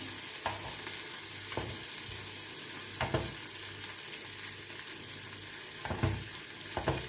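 Steady sizzling of tomato slices frying in a pan, with occasional scrapes and stirring clicks cutting through the constant hiss.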